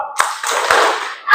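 A short burst of clapping from a group in a classroom, brisk and close, lasting about a second before fading out.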